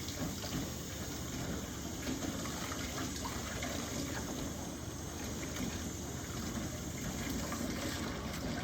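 Tap water runs steadily into a kitchen sink filled with dish soap for washing dishes, a continuous close rushing splash that holds the same level throughout.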